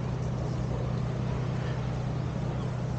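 A steady low engine drone with a constant hum, like a boat motor running at a distance, unchanging throughout, from a boat unloading sand onto a beach at Ericeira, Portugal.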